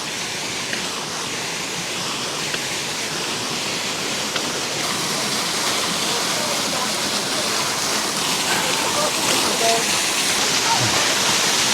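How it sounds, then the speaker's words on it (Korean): A waterfall in the Tiger Leaping Gorge area of Yunnan, China, pours down in a steady, dense broadband rush that holds even and continuous throughout, with faint voices of people playing near the water mixed in. "여기 뒤에 폭포가 흘러내리고 있어요. 아주 시원하게 물이 흘러내리고 있습니다."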